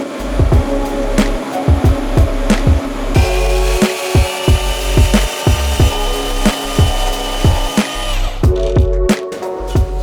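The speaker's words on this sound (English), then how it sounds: "I can put this in the vise and clamp it here and cut here and cut here" A titanium exhaust megaphone pipe held in a vise is cut with a power tool, a steady metallic whine with rhythmic rasping strokes pulsing roughly twice a second, loud and close, no talk.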